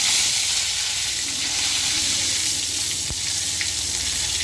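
Curry leaves dropped into hot oil with already-popped mustard seeds, cooking for a soya egg thoran, give a steady loud sizzle and hiss throughout, with a brief sharper crackle near the end.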